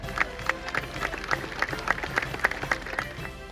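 A crowd applauds a pipe band at the Braemar Gathering, dense steady clapping filling the space with scattered louder claps and faint voices mixed in.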